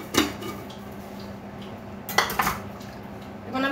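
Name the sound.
spoon adding sugar and tea in a cup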